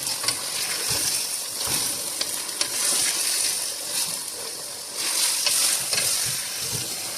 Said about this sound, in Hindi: और इसको थोड़ी देर हमने फ्राई करना है।